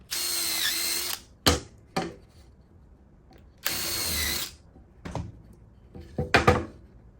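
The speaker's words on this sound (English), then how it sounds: "you're going to pre-drill it" A power drill pre-drills plywood for a cabinet hardware jig in two sustained whirring bursts, each followed by clattering knocks and handling sounds, close and fairly loud.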